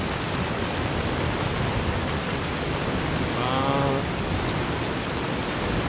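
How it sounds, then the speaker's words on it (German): Heavy rain in the video game Fallout: New Vegas hisses loud and steady throughout, with a brief tonal chime or beep partway through. "dieser Regen, der hört sich so geil an, aber so laut auch."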